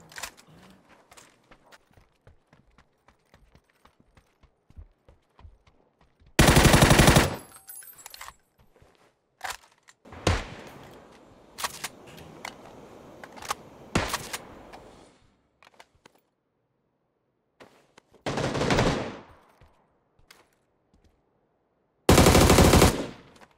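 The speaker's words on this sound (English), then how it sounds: "What the hell is he shooting windows for?" Bursts of automatic gunfire from the battle royale game PUBG ring out in several loud, dense volleys between quieter stretches of footsteps and small in-game clatter.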